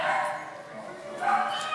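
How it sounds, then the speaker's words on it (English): A scared, newly arrived female dog whimpers and yips in an animal shelter, a steady high whining close by with a brief louder rise near the end, while a person talks over it. "Very beautiful dog"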